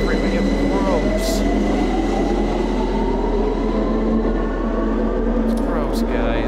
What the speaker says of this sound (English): Why did I get on this train?